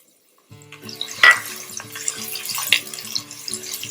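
Finely diced shallot sizzles in hot olive oil in a pot over medium heat, a steady close crackle and hiss that starts abruptly and continues throughout without talking.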